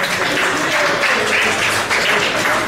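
A debate audience gives a round of applause, a steady wash of clapping that fills the whole stretch at an even level with no voices standing out.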